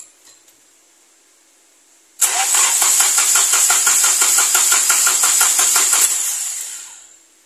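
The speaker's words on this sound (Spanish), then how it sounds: "Vamos a ver si arranca porque no lo pongo en marcha hace un par de días." A Pointer car that has not been run for a couple of days is cranked over. After a quiet start, a loud, steady, rapidly pulsing starter-and-engine rattle runs for about four seconds, then fades away.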